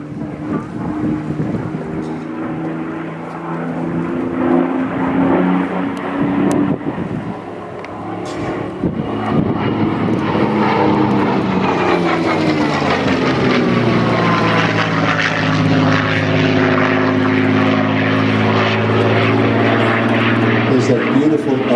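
A Supermarine Spitfire Mk XVI fighter passes overhead at an air show at Temora, New South Wales, its piston engine droning louder and then sweeping down in pitch as it flies by. An announcer talks over the roar.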